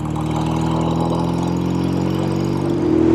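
Motorcycle engine running steadily after slipping into gear, a loud close mid-pitched drone with a constant harmonic hum that rises slightly near the end, no voices.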